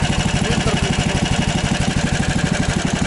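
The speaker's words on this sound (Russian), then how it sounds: "Хороший звук лифана, 20-ки двигателя." A small Lifan motorcycle engine runs close by on ice with a rapid, regular putter, steady and loud, without any speech.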